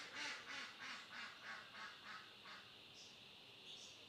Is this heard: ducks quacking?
yes